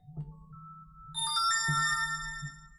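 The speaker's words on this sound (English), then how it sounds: "Many alarms going off, all saying they are important." A phone alarm chimes with bright, sustained tones over a low steady hum, with a second alert layering in partway through.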